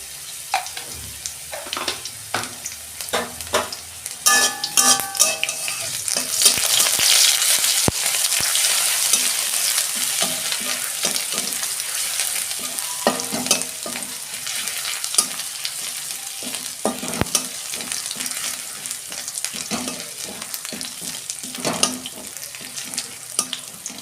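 Garlic and black cumin frying in hot oil, with a loud, continuous close sizzle and crackle, broken by occasional stirring scrapes of a utensil in the pan.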